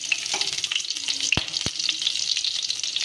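Cumin seeds, garlic cloves and green chillies crackle and spit in hot mustard oil, a bright close sizzle with a couple of sharp knocks and light stirring sounds.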